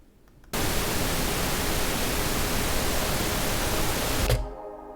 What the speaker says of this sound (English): And we want that pink noise over here.